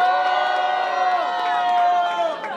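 A rap battle crowd between HS and Venezian roaring with loud cheers, whoops and shouts, a dense sustained wall of noise with an announcer's voice over it.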